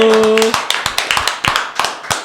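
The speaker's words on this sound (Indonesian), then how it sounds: "Tepuk tangan dulu." A few people clap their hands in a radio studio after a brief spoken word, giving a short run of close, crisp claps in a loose rhythm.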